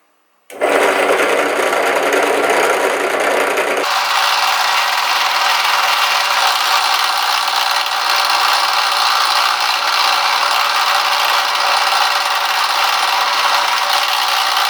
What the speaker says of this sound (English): There you go, just drilled them.